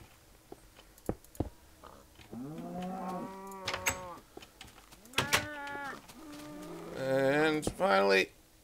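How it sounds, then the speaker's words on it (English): Loud, close cow moos in the Minecraft video game, several drawn-out calls in a row among scattered game clicks and thuds. "Cows, you are loud."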